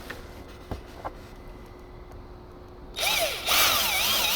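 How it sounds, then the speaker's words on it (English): A few soft taps and clicks, then a power drill spins up loudly, its whining pitch dipping and rising as it bites into a model airplane wing. "Come in with the drill."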